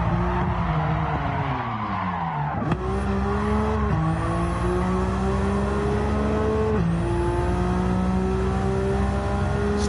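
A Nissan GT-R 'Godzilla' racing car in a video game, its engine revving loud and close with rising pitch through gear shifts, continuous with brief tire squeal, no talking.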